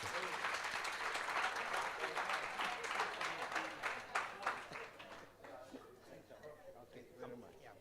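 Audience applause at a governance dialogue event, clapping strong at first then thinning into scattered claps, with voices talking over it toward the end.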